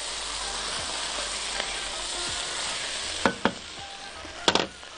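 A pan of tomato sauce sizzles steadily while a spoon stirs it, with a few sharp scraping clicks near the end; no one talks.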